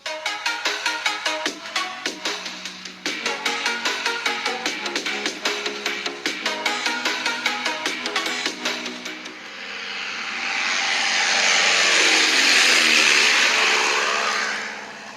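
Stereo speakers on a realme GT2 Pro phone play a demo track: rhythmic plucked and percussive music for several seconds, then a swelling roar like a race car or aircraft passing, rising and fading, with no talk.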